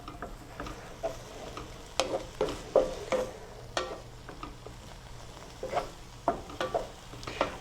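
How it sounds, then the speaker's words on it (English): Vegetables stirred into white wine in a pan for ground turkey stuffed peppers, a close series of irregular scraping and clattering strokes over a faint simmer, with no talking. "I'm going to mix those in with that white wine"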